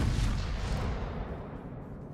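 The battleship Wisconsin, a Tier 10 Iowa-class ship in a naval video game, fires a main gun salvo: one heavy, booming blast that rumbles and fades, with no talking.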